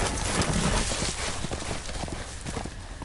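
Horse hooves clip-clopping in the Game of Thrones Telltale video game, a rapid run of close, distinct hoof strikes over a busy background, with no talk.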